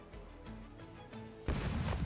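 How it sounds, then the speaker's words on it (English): Cannon broadside fire in the pirate video game Rogue Waters: a few dull booming shots, then a louder, denser burst of blasts near the end. "Cannons, sound off."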